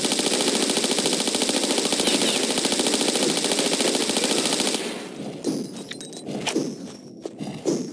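Rapid automatic gunfire against enemies in Tomb Raider IV inside the Great Pyramid of Giza, a steady burst lasting several seconds before cutting off, followed by scattered thuds and footsteps.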